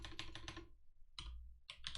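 Rapid keystrokes on a computer keyboard while entering Python code, arriving in three quick clusters separated by short pauses, close and fairly quiet with no talk.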